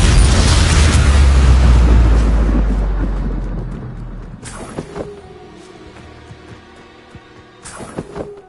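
A Bombarda spell explodes in Hogwarts Legacy, a loud deep boom that rumbles and slowly fades over several seconds, followed by a few sharp cracks and debris-like impacts.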